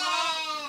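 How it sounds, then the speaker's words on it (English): A single short, loud bleat from a sheep on a farm where the flock is out eating hay, close by and heard alone. "Let's try to sneak in on the sheep."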